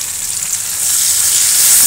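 Cumin and garlic paste fry in hot oil in a pan with chopped onion and green chilli, a loud, close, steady hiss that swells slightly louder as it goes on.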